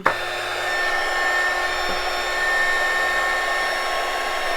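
A hot air blower heating a TPU ring whirs steadily and close up, a continuous airy hum with a faint click near the start.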